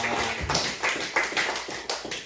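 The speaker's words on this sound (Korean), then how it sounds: "우리 박수로 축하합니다." A church congregation claps in a quick, loose rhythm for a couple of seconds, fairly faint and without any talk over it.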